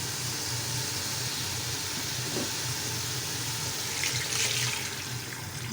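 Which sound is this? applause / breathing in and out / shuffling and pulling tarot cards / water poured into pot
water poured into pot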